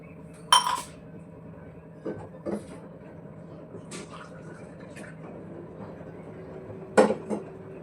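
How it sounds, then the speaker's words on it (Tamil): A drinking glass picked up in a home kitchen, giving several bright clinks spread across the moment, loudest near the start and near the end, with softer knocks between over a quiet background. "இப்போ இதை ஒரு கிளாஸ் எடுத்துடலாம்."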